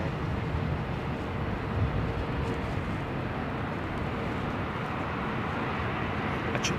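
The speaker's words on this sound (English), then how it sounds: "A 777's engines may or may not sound amazing in a glass enclosed hotel shell." Boeing 777 jet engines roar at Heathrow Airport in wet weather, a broad, steady, loud rush heard from inside a glass-enclosed hotel, continuous without pause.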